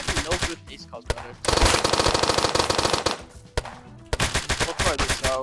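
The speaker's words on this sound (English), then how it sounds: "This is me shooting him." Rapid automatic gunfire from a gun in the Roblox game Apocalypse Rising 2, loud and close, in dense sustained bursts separated by short gaps.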